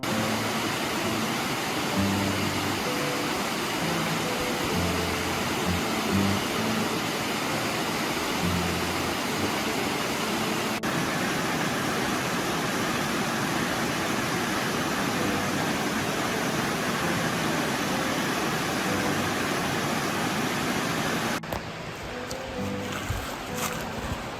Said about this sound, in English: Right down by the river. Listen to that all night.